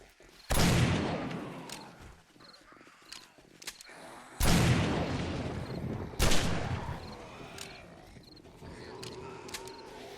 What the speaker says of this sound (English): Let's try out the shotgun a little bit now.